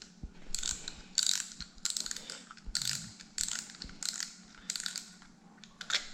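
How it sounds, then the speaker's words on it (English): Ratcheting clicks and mechanical rattles in repeated short bursts as the spool comes off a Shimano spinning reel during cleaning, close and fairly quiet with small gaps between bursts. "we're gonna remove the spool here"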